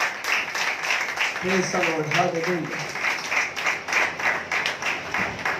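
Church congregation at a Friday worship meeting clapping loudly and steadily, a dense continuous patter of hands with voices calling out over it.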